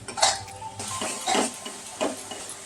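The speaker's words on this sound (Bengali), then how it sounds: "একটু আমি ভেজে নিচ্ছি হালকা করে।" Spices fry lightly in a pan for katla kalia, heard mostly as a few distinct metallic scrapes and clanks of a spoon against the pan over a faint sizzle, close and without talking.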